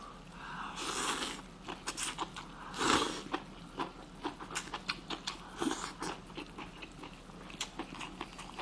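Hotpot tripe, white layered tripe briefly blanched and dipped in an oil sauce, crunched in close bites with a series of crisp chewing snaps and soft mouth sounds, mostly quiet between bites.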